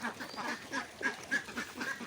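Domestic ducks let loose on a farm pond quack in a quick, rhythmic series of nasal calls, several birds overlapping at moderate distance, fairly faint, with no talking over them.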